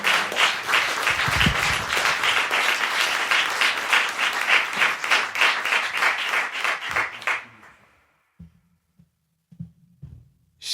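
Loud, sustained audience applause for a jazz musician fills the first seven seconds, then fades out and leaves near silence broken by a few faint thumps.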